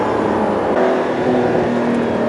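Porsche 991 GT2 RS rear-mounted twin-turbo engine pulling hard from mid-range speed, a steady loud drone with a rising tone, heard close from inside the car with no talking.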